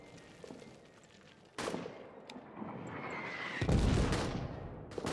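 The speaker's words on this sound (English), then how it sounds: "Heads down, artillery." Artillery fire in a WWI trench video game: distant booms and crackling shell impacts over a low rumble, with a sharp blast near the middle and a heavier, deeper explosion toward the end.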